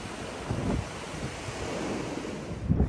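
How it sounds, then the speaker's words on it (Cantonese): Strong storm wind in Birmingham, England, roaring steadily as broadband rushing noise with buffeting gusts against the microphone, loud and continuous with no voices. "即係好大風啊！"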